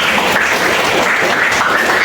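A school class claps together during an Indonesian history lesson, producing a brief, dense burst of applause that fills the room evenly.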